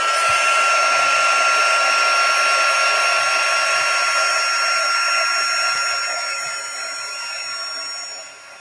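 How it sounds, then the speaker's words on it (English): A craft heat tool blows steadily on metal craft dies, a loud continuous whirring hiss close by that holds for several seconds and then eases off toward the end. "And now I'm going to bring in my heat tool here"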